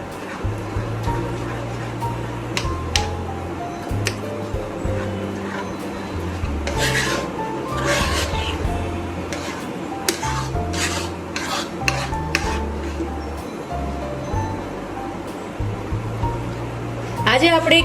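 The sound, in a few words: mixing thickened milk rabri in a pan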